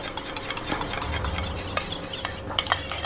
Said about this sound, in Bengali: দুধের সাথে দইটা ভালো করে মিশিয়ে নিচ্ছি।